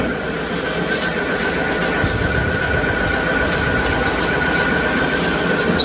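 A knife-edged crankshaft with its flywheel fitted spins on a balancing machine, giving a steady mechanical hum with a faint whine held at a constant level, close and uninterrupted.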